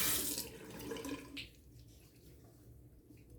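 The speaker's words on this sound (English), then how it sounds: "let's do a little cold water rinse" Cold water runs from a bathroom tap as a rinse during a wet shave, a steady splashing hiss for just over a second that then cuts out, leaving quiet room tone and a brief tap at the end.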